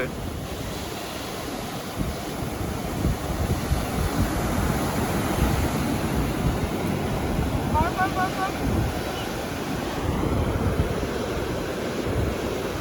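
Sea waves wash onto Puri beach under steady wind buffeting the microphone, surf rolling in continuously with a brief tonal chirp partway through.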